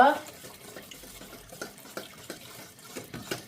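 Cornflour being stirred into a little water, mixed until smooth for a dates halwa, giving soft repeated scraping and sloshing strokes at close range, fairly quiet throughout.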